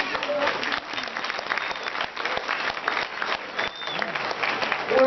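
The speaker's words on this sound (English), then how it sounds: "So please give him a big round of applause." Audience applause at a Burmese American cultural event with a speech, sustained crowd clapping with faint voices and tones mixed in, steady and moderately loud.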